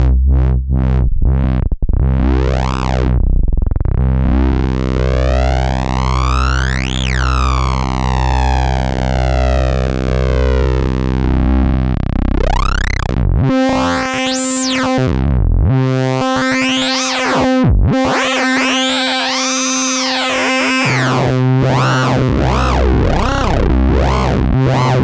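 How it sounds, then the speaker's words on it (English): An analog VCO oscillator Eurorack module, shrunk from the Kosmo format, played through a filter gives loud, continuous synthesizer tones that sweep and warble like a siren, with distorted, buzzing harmonic bursts and pitch jumps, alone without talk. "Now let's plug it through the filter."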